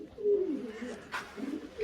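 Young racing pigeons on deep litter in a loft coo softly in a few low, rolling calls, with a brief rustle in between.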